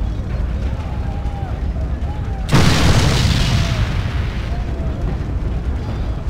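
Gunpowder barrels shot with a pistol in a video game: a loud, sudden blast erupts midway, followed by a rumbling roar that slowly fades.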